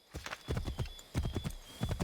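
Horse hooves clip-clop in the Assassin's Creed III video game, a quick, uneven run of hoofbeats that comes in several bursts with brief pauses between them, close and clear.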